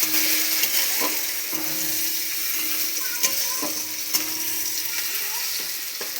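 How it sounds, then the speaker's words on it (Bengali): Onions frying in a home kitchen pan give a steady, close sizzle with occasional scrape and clatter of a utensil, loud and continuous throughout with no talking. "দেখো পেঁয়াজটা ভাজা ভাজা হয়ে গেছে"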